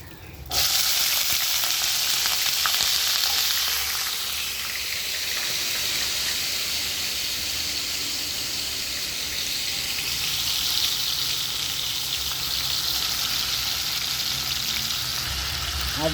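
Potatoes frying in oil with panch phoron and dry red chillies give a loud, continuous close-up sizzle that swells sharply at first and then settles into a steady crackle throughout.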